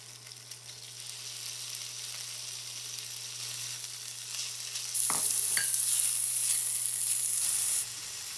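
Two strips of finely chopped bacon sizzle steadily in olive oil in a hot cast iron pan, a loud continuous crackle with a few sharp spits and stirring clicks, with a high hiss rising for the last few seconds.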